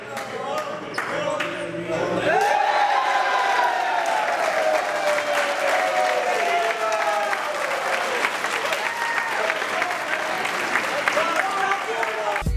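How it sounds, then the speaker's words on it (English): A football stadium crowd roars for the Rattlers, a loud continuous swell of cheering and applause that rises sharply after a quieter opening, with voices and scattered sharp sounds over it. "The roar of the crowd,"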